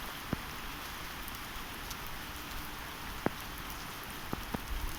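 Heavy rain pours down in Anapa in a dense, steady hiss of a downpour on surfaces, broken by a few sharp isolated drips and knocks.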